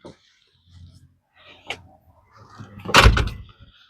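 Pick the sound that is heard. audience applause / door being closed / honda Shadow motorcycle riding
door being closed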